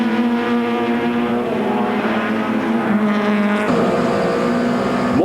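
Touring cars, including BMWs and Nissan Sentras, race at the Aldo Scribante circuit in 1996, several engines howling together at high revs, one note dipping then climbing again as a car shifts and passes close by, loud and continuous.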